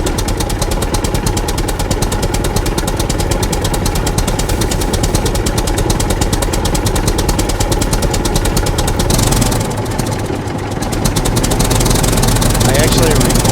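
A tractor engine in the SCUM survival video game runs steadily while driving, a loud knocking diesel chug that briefly dips before resuming, with players talking over it.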